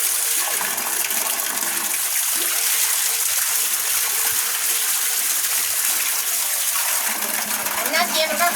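Fruit is washed by hand in water at an outdoor village kitchen. Loud, steady running and splashing water fills the whole stretch, with a voice faintly underneath.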